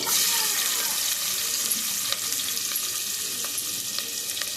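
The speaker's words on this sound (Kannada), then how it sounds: "ಈರುಳ್ಳಿ ಸಣ್ಣ ಚೆನ್ನಾಗಿ ಫ್ರೈ ಆಗಲಿ" Continuous hissing sizzle of onions frying in hot coconut oil for an egg curry, with occasional small clicks and crackles, close and fairly loud.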